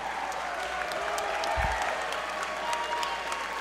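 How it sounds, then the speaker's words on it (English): A wrestling crowd at a STRONG show applauds in a steady, dense wash of clapping that holds throughout, with a brief low thump partway through and no clear talk over it. "And the crowd really reacting to Andy Brown."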